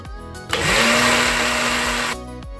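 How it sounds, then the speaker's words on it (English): A blender mixing dog treat ingredients whirs loudly for about a second and a half, a steady high-pitched motor roar that starts abruptly and cuts off. "put this all into our blender, mix it all up"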